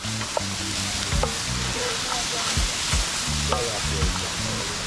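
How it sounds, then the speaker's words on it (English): Chopped onion, scallion, thyme and okra fry in a pot during a fried fish and coconut curry cook-down, a steady loud sizzle with periodic scraping stirs and knocks, close up, with no talking. "we're adding with chop up vegetable, onion, scallion, thyme, okra"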